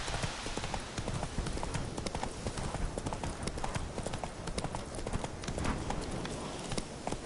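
Roach, a horse in The Witcher 3, gallops with a steady, rapid clip-clop of hooves, loud and close throughout, under a dense layer of ambient game noise.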